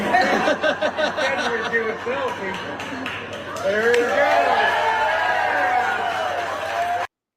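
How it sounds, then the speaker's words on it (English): A crowd on an arena floor reacts as Biden puts on a Trump hat, with loud, sustained chatter, chuckling and mixed voices swelling over several seconds after a brief spoken remark near the start. "And when he puts the Trump hat on, here is the response from the crowd."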